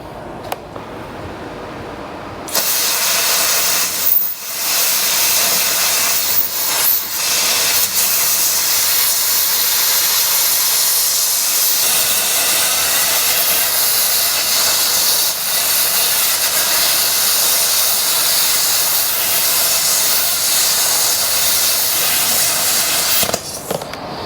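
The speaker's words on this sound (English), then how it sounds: "I'm going to cut a little bit of this heavier steel." A VEVOR CUT50P plasma cutter cuts heavier steel, about one-eighth inch, as a loud steady roaring hiss that holds for roughly twenty seconds, starting and stopping sharply, with no talking.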